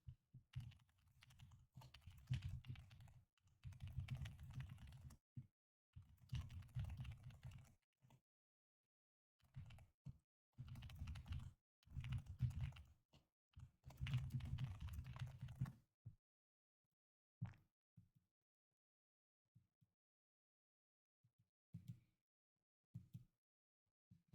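Someone types on a computer keyboard during a trading stream, with quick bursts of clicky keystrokes for about fifteen seconds, then a few scattered single taps amid near silence.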